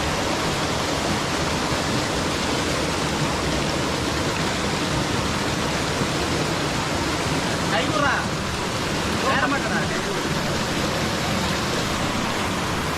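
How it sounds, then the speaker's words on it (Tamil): A waterfall and clear flowing stream in the Vathalmalai hills produce a loud, constant broadband rush of water that stays even from start to finish, with a couple of faint brief sounds over it. "அங்கே அந்த ஒரு பாறை தெரியுதுங்களா, அங்கே தான் ஃபால்ஸ்."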